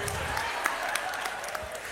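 A seminar audience applauds in a dense, steady patter of many hands clapping at once, moderately loud and sustained through the whole moment without a clear start or stop.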